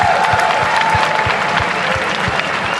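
A large crowd at an esports event applauds and cheers European champions Fnatic, loud dense clapping filling the space continuously, with a few sharp rhythmic claps standing out from the roar.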